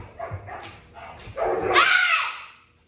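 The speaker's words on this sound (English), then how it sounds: "the dogs are getting into it" Dogs bark and scuffle indoors, first with a few low, scattered thumps and yips, then one loud, drawn-out bark or whining yelp that fades out.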